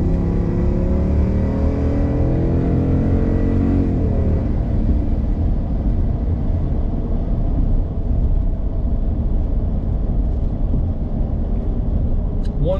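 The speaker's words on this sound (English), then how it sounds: "I can gas it a little bit for you guys just to see if you guys can hear anything" A 2019 Dodge Ram Power Wagon's engine revs up as the truck accelerates. It makes a loud, steady rumble whose pitch climbs, then eases off, and a low drone stays behind afterward.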